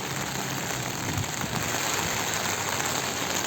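Heavy rain pouring steadily at a housing development site, a dense, unbroken hiss of drops on surfaces, close and loud throughout with no voices.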